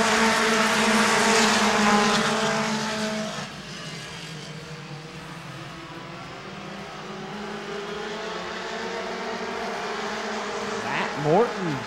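Mini stock race cars at Angola Motorsport Speedway roar in a loud, dense pack with sustained engine drone that eases slightly after a few seconds. A nearer car's rising whine passes near the end, and an announcer talks over the racing.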